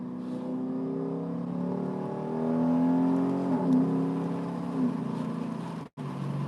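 A car pulling away in second gear through a left turn on an Australian road, its engine rising in a smooth steady whine and holding close and fairly loud, a brief dropout near the end.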